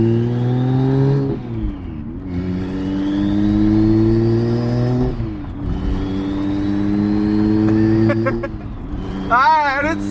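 A BMW 335i single-turbo engine with a freshly installed twin-disk clutch revs up and falls back in repeated surges, a steady loud mechanical hum rising and dropping in pitch, with a brief quick rev burst near the end.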